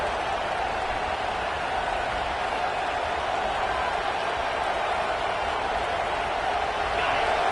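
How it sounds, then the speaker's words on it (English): A fired-up football stadium crowd early in a game roars as a steady, dense wash of noise that holds evenly throughout, loud and continuous with no individual voices standing out. "It's early, but this crowd is fired up. Listen to this noise here."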